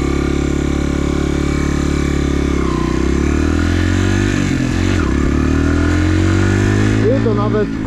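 Chinese supermoto motorcycle engine idling and revving loudly up close, with rising and falling pitch throughout, while someone talks over it.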